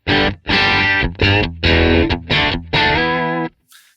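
Loud distorted electric guitar with reverb turned off plays a string of punchy rock chords with short gaps, dry and upfront, each stopping abruptly without any trailing echo.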